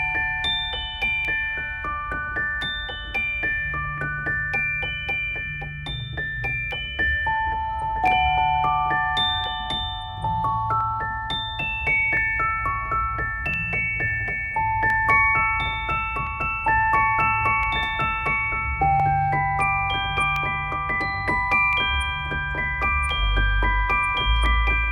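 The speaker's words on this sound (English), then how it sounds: "a celeste, a piano instrument that uses the keys to strike small pitched bells" A celeste overdub, its keys striking small pitched bells in a bright, chiming run of high notes over a soft piano-like backing, clear and steady throughout.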